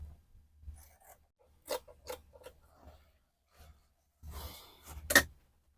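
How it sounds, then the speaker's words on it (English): Dress fabric is cut out along a flare dress pattern, with close, quiet scissor snips and fabric rustles coming in short irregular bursts separated by pauses. "Then I'm going to cut this out."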